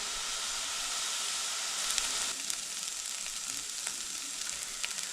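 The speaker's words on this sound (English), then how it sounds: "I'll just gently fry that off" Chopped onion and garlic fry gently in a pan, giving off a soft, continuous hiss and crackle with small pops scattered through it, fairly close and unbroken by speech.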